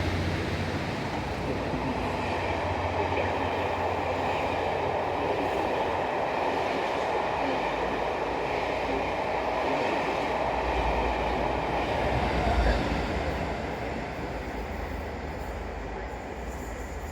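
A train rumbles steadily past at close range, a continuous roar of wheels on track that builds slightly before easing off.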